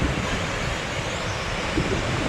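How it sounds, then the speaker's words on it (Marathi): Water pours over the tops of a dam's open gates from a nearly full reservoir, making a steady, loud, broadband rushing roar that holds unbroken throughout, with no voices. "आणि सहा दरवाज्यातनं बघा ओव्हरफ्लो होत आहे"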